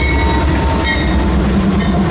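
A CSX freight train rolls past at about 40 mph track speed, a loud close continuous rumble of wheels and cars on the rails with faint squealing tones.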